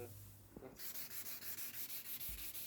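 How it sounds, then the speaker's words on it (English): Rhythmic sanding of the wooden body of a vintage 1960s bass guitar, a steady series of rasping back-and-forth strokes, close and fairly loud after a brief quieter start. "It needs a bit more sanding."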